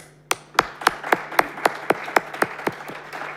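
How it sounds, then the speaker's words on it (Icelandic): Clapping at an Icelandic awards ceremony, heard as about eleven sharp, evenly spaced claps in a brisk steady rhythm, close and distinct rather than a dense wash of applause. "Og við skulum gefa þeim gott klapp."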